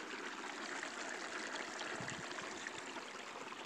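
Air pump bubbling water in an aquarium setup, a steady continuous rush of fine bubbles and trickling, close and fairly loud throughout with no talk.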